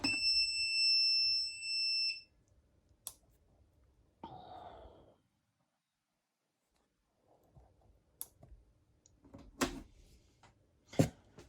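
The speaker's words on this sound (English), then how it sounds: "Sorry about the beep again." A steady electronic alarm beep sounds at the start and stops after about two seconds, followed by quiet clicks and brief handling noises.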